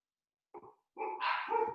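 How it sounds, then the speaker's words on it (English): Pet dogs barking indoors during a home video call, a short yip followed by a longer burst of overlapping barks and yelps, fairly close and loud with no talk over them. "I'm sorry if you hear my dogs barking in the background."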